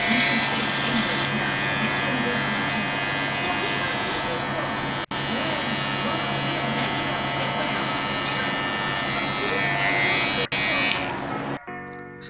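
A WezTeck hair clipper runs with a steady, loud electric buzz and a slight rattle, holding close and constant for about eleven seconds before cutting off near the end.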